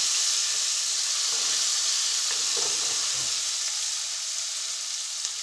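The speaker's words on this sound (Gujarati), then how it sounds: "લસણને પણ આપણે 1 મિનિટ સાંતળી લઈશું" Crushed garlic and ginger sauté in hot oil in a pan for dal fry, giving a steady, close, hissing sizzle with faint stirring scrapes underneath.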